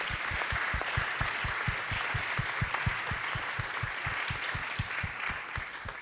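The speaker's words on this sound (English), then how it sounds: "I will please ask you to give a big applause to these fantastic" Conference audience applauding a panel at an ethics of neurotechnology event, a steady, moderately distant spread of clapping from a hall with a faint underlying rhythmic pulse, no voices over it.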